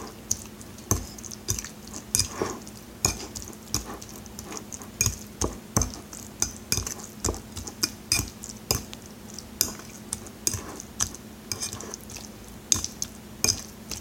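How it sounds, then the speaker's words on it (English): Taco salad being mixed in a bowl, repeated sharp clinks and scrapes of utensils against the dish in an irregular rhythm, close up with no talk. "So you're going to want to mix it up."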